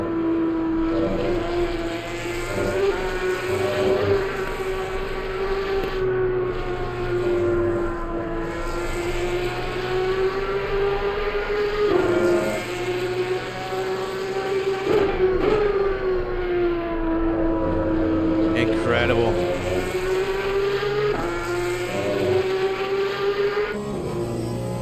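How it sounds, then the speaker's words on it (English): A Porsche race car engine in Assetto Corsa Competizione, racing at Watkins Glen, holds a steady, loud high-revving drone with repeated rises and dips as the gears shift, heard alone without talk. "I love the sound of this engine."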